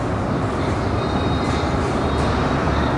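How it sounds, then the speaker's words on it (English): Steady loud rumble and roar of a train approaching Bellecourt station in Lyon, broadband and continuous, with faint high squeals above the noise. "The train coming, right?"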